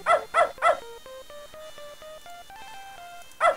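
In the PC adventure game Beneath a Steel Sky, a dog gives three quick barks, then a run of synthesized tones plays, followed by another bark at the end, close and clear.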